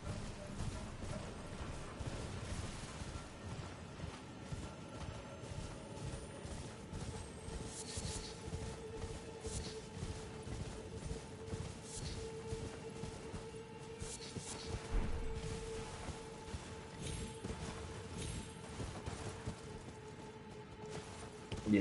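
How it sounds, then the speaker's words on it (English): Horse hooves galloping in Elden Ring, a steady rapid clip-clop running throughout, moderately loud, with a low sustained game ambience underneath and no talking. "just riding around on the horse"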